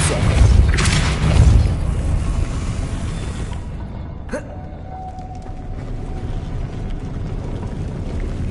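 A Depulso spell blast cast in Hogwarts Legacy: a deep booming burst that rumbles heavily for about a second and a half, followed by a sharp crack and a fainter tonal ring fading under steady ambient noise.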